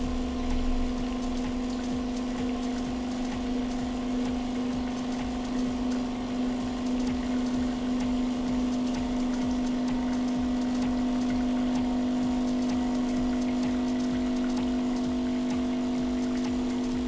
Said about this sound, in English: Withdraw water for 30 seconds.